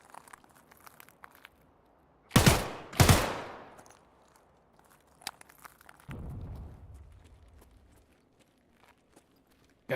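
Two loud, close gunshots ring out in quick succession in a video game, each decaying with a reverberant tail, followed later by a softer rumbling burst and scattered faint clicks.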